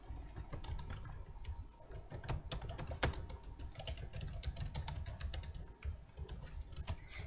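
Steady typing on a computer keyboard while entering a mathematical equation in a LaTeX document with the amsmath package, dense clicking keystrokes close up with a constant low hum underneath and no speech.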